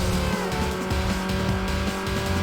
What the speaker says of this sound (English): Pretty cool car though, this Acura.